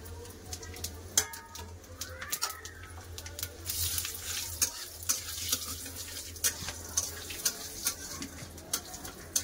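Whole garam masala spices, cardamom, cumin, mace, star anise and peppercorns, temper in hot oil for karahi chicken, a soft crackling sizzle with scattered clinks and stirring, faint and mixed with background noise.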